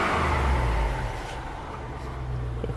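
A 400-horsepower LS2 V8 in a Saab-badged Chevrolet Trailblazer SS revs up, a low rumbling engine note swelling at the start, easing off, then rising again near the end, with no talk over it.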